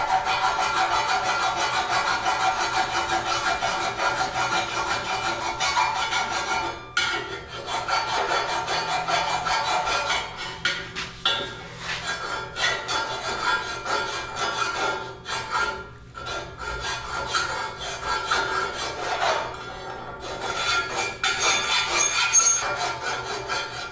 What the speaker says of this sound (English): because the grinder can't get into a square corner, we're going to have to file